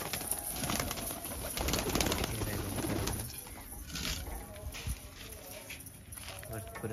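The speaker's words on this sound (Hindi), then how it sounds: "पूरे कबूतर बाहर आ चुके हैं" Pigeons pour out of an opened coop, soft cooing and fluttering mixed with footsteps and shuffling nearby, while someone talks over the birds throughout.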